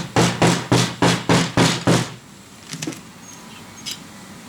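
A bar being tapped into place on a Formbytes One frame, seven evenly spaced sharp knocks close up, followed by quieter handling clicks.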